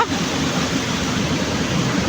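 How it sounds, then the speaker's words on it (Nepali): Water rushes in a steady, loud roar, the continuous churn of a water-driven grain mill running without pause. "पहिलोचोटि यहाँ पानी घट्टा देखेर"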